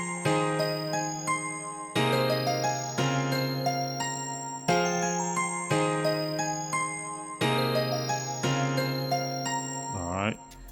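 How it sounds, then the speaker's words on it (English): A synth bell part plays a melody over sustained chords: bright, chiming struck notes in regular phrases, each a layered bell tone that decays slowly, ending in a quick rising pitch sweep. "All right, let me turn that bell part up louder."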